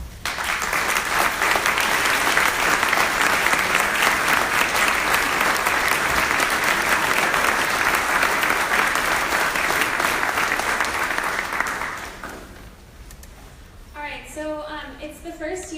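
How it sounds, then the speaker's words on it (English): A large reception audience gives a round of applause for youth award recipients, loud dense clapping holding steady for about twelve seconds, then fading out as a voice begins talking. "if you guys would please stand up and we'll give them a round of applause"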